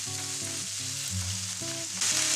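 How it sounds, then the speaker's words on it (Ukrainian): Meat sizzles steadily in a hot pan, a close, continuous crackling hiss with a faint tonal hum underneath. "викладаю на розігріту сковорідку"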